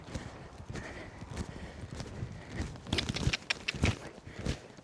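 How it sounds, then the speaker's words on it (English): Horse loping around a fenced pen, a quick uneven drumming of hoofbeats close by, growing louder and more distinct toward the end. "I just want him loping around this fence."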